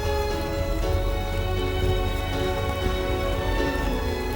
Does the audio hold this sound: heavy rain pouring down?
yes